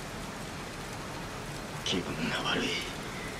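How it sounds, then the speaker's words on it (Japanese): Rain falls steadily in the Heavy Rain video game, a soft constant patter under a short spoken line. "鬱陶しい雨だ。 びしょ濡れだな。"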